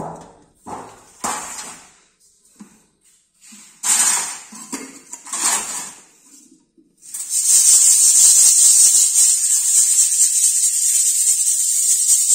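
Sand being shaken through a sieve into a tray during a fine-aggregate sieve analysis test; a loud, steady hissing rattle of grains starts partway in and runs continuously to the end after a few scattered knocks and handling sounds.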